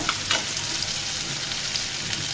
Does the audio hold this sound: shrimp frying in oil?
yes